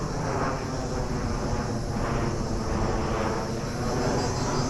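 An airplane passes overhead near a crowded ancient acropolis site on Rhodes: a steady, fairly faint broadband roar with a slow swell, heard through outdoor ambience.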